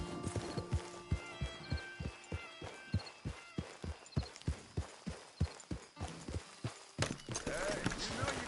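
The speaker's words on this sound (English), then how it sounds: "you know you can't have horses here" Horse hooves clip-clop in a steady walking rhythm in Red Dead Redemption 2, clear and regular, with a voice talking over them near the end.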